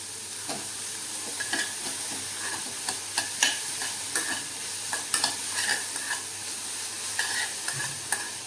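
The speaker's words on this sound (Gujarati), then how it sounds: "હળદર મીઠું ઉમેર્યા પછી આપણે હળદર અને મીઠાને સંભારામાં સારી રીતે મિક્સ કરીએ" Spatula stirring sambharo in a pan after turmeric and salt go in, a steady soft sizzle broken by repeated scraping clicks and taps at an irregular, close rhythm, with no talking.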